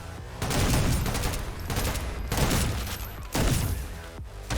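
Shotgun gunfire in the video game Synthetik 2, three heavy booming blasts spaced about a second or more apart, each trailing off into a rumbling decay, loud and close.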